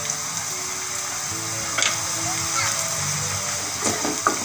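Poha with turmeric is stirred and sautéed in a pan, making a continuous close sizzle with a few sharp scraping clatters of the spatula, while a voice talks over it.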